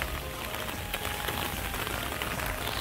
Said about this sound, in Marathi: आता पाऊसच एवढा जोरदार आला आहे.